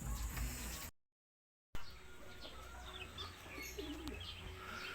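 Pigeons cooing in a loft, soft close calls heard alone over a steady background hum, with a brief gap of silence early on.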